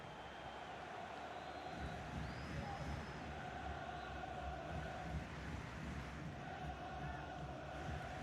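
Unhappy stadium crowd in the FIFA 23 football video game, a dense sustained roar of jeers and murmuring at a distance with whistles rising over it.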